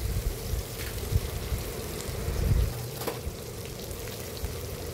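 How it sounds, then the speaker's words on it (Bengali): Tomato and chopped green chilli frying in oil in a kadai, a faint steady sizzle with light scraping and stirring knocks scattered throughout, close and quiet. "তো কড়াতে দিয়ে দেওয়ার পর এইগুলোকে আমি ভালো করে একটু নাড়তে থাকবো।"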